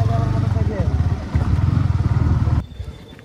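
A motorcycle engine runs steadily and loudly up close for about two and a half seconds, then cuts off abruptly, leaving a quieter tail.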